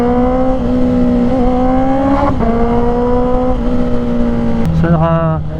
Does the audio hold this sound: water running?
no